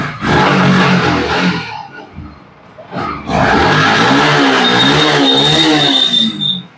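A second-hand motorbike, low on fuel, is self-started and revved hard. Its loud, close engine roars, drops off briefly, then revs up again and holds a steady, strained roar to the end.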